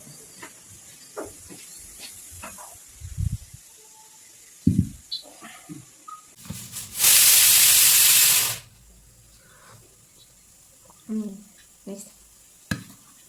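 A pressure cooker cooking potatoes lets out one loud, close burst of hissing steam lasting about two seconds. Quieter kitchen clatter and a speaking voice come before and after it.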